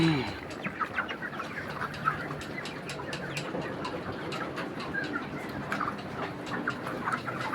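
Chickens in a summer poultry shed cluck and chatter continuously at a moderate distance, with scattered sharper calls over a busy flock background.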